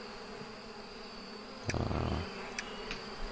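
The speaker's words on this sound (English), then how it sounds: "These little bees have produced." Bees buzz softly and continuously in the bee-keeping video game APICO, with a brief louder burst of game sound effects in the middle and a quick spoken word.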